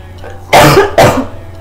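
Two sharp, loud coughs from a sick woman close to the microphone, a brief pause between them, with quiet room tone before and after.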